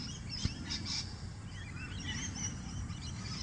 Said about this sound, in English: Birds are all singing, quite happy.